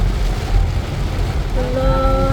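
Heavy rain drums steadily on a car moving along a highway, a dense continuous wash of drops and road rumble with a faint tonal whine appearing toward the end.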